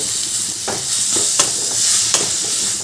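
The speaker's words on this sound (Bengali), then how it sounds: "সেই কুমড়োটা ঘিয়ের মধ্যে দিয়ে দিলাম এবার কুমড়োটা ঘিয়ের মধ্যে দিয়ে খুব ভালো করে আমি এটা ভাজব" Grated pumpkin frying in hot ghee, a loud continuous sizzle close up, broken by a few scraping strokes of a spatula stirring the pan.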